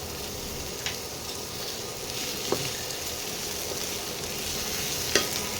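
Green chillies and whole garam masala, cinnamon, cardamom, cloves and mace, fry in hot oil with a steady, even sizzle, broken by three brief ticks of a spoon against the pan.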